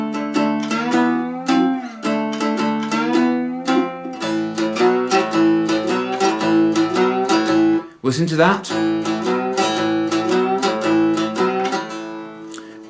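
Two-string cigar box guitar plays a twelve-bar blues pattern of rhythmic plucked chords, loud and close, with a short spoken phrase and a brief pause partway through.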